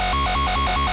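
Dirty formant synth lead processed with the Sausage plugin, a loud, buzzy sustained tone whose vowel-like wah opens and closes rhythmically about four times in a single second.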